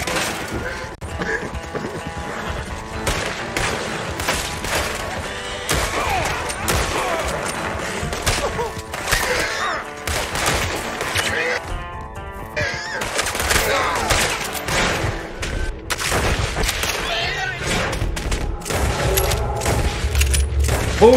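Gunfire in Red Dead Redemption 2 during a bandit bounty challenge, with dense shots and impacts running throughout amid busy game sound, loud and continuous.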